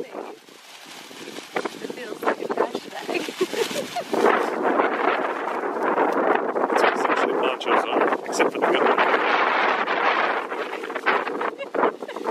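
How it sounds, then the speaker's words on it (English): Gusty wind and rain roar and buffet the microphone steadily at a volcano crater rim in Hawaii, with a brief spoken word near the start. "Got windy and rainy all of a sudden."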